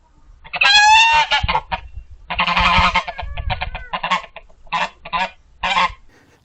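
Geese honk loudly and close on a farm in Portugal, a burst of harsh, overlapping calls followed by several shorter separate honks, with no talking.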